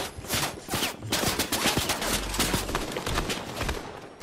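Rapid automatic gunfire in the video game Fortnite, a dense sustained fusillade of loud shots that runs the whole stretch without a break.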